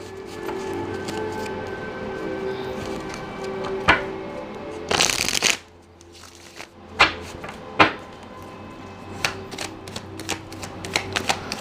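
Tarot cards riffled and shuffled in a series of brisk papery bursts, with one long loud shuffle in the middle and sharper card snaps afterward, close up over a quiet background hum.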